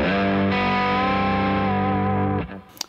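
A sustained, overdriven electric guitar chord rings out with a spring reverb tail from a Boss FRV-63 spring reverb pedal, then is cut short, followed by a faint pick scrape.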